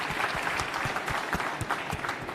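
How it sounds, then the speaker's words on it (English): Applause at a tech keynote: a crowd claps in a dense, lively patter with a few louder individual claps standing out, steady and fairly close throughout. "So big round of applause for them."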